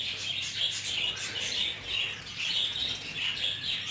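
Budgerigar chicks chirp in quick, repeated high bursts, nearby and fairly loud, forming a continuous twittering chatter.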